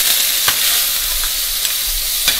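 Garlic and ginger sizzling in hot oil left over from frying okra, a loud, close, continuous hiss with a few sharp crackles and light stirring scrapes.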